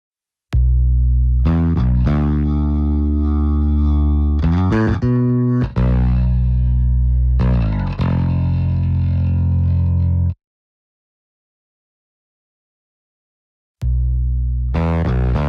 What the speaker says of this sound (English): I'll show some of the fuzzed up distortion you can get from this thing